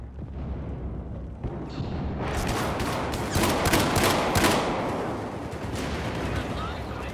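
AEK-971 rifle fire rattles in rapid bursts through a Battlefield 4 match, loud and dense, with heavy booms and overlapping shots across several seconds.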